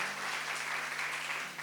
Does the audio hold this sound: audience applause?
yes